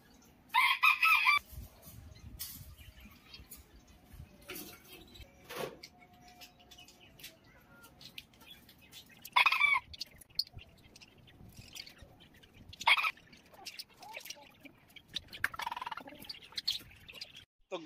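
Chickens, including hens being let out of their coop, cluck and crow in scattered bursts, with a few loud crows standing out over quieter clucking and rustling.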